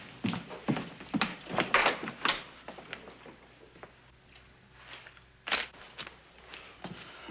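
A front door in an old Western ranch house opens and closes with several wooden thunks and knocks, footsteps moving about, moderately close and distinct against a quiet room.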